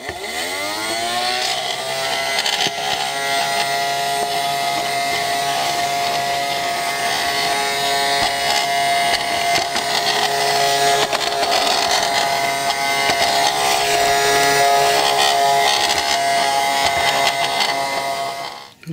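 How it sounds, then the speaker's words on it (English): Vacuum cleaner hoovering a railway station platform at Tyne Dock, a loud steady motor whine with strong harmonic tones that spins up at the start and runs continuously, close and without talk, cutting off at the very end. "Okay, so that's the hoovering done."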